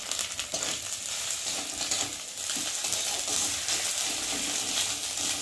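Whole spices crackle and sizzle in hot oil as a tempering for khichuri, a continuous bright frying hiss with occasional pops and stirring clinks, steady and close, with no voices.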